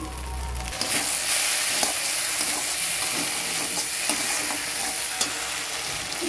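Shrimp coconut curry fries in a pan as it is stirred, with a loud, steady sizzle and occasional scrapes and knocks of the spoon, close up and without speech.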